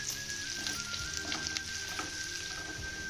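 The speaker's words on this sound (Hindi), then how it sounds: "प्याज को मीडियम फ्लेम में थोड़ी देर के लिए भून लेंगे।" Onion and capsicum fry in a pan over a medium flame, giving a steady, moderately quiet sizzle with faint crackles and a few soft scrapes, and no voices.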